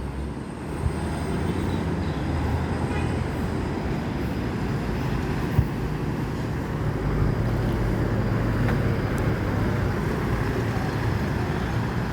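A Lorena Jetbus 2 coach rolls into the Palembang bus terminal with a steady low engine rumble, the drone holding close and even throughout, joined by a few brief knocks.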